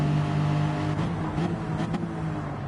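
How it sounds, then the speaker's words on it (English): Race cars in Gran Turismo 7 fly by over a bridge, a steady engine drone with rising whooshes as they pass close. "You hear the cars doing the flybys there over the bridge."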